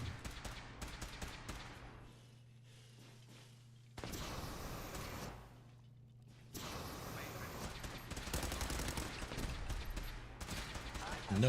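Bursts of gunfire from a weapon firing blue shots in the video game Fallout 4, rapid crackling volleys in two loud stretches separated by a quieter pause, with a steady low hum underneath.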